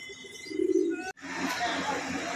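Racing pigeons cooing at close range, a steady low murmur of overlapping coos with a brief swell partway through and a short break before the cooing resumes, no speech.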